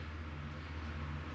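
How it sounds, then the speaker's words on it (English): Steady low mechanical hum and whirring of a fan running continuously, fairly quiet, with no voices. "The fan's on, so sorry about the noise."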